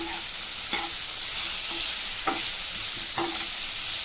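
Bitter gourd slices fry in hot oil with a steady sizzle while a spoon periodically scrapes and stirs the pan, four or so distinct clacks punctuating the continuous hiss.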